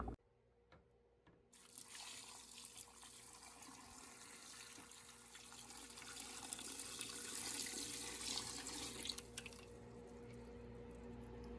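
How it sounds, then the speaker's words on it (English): Water gushes steadily from a tap after a couple of quiet drips, a constant rushing flow that swells slightly and then stops near the end. "Run more water."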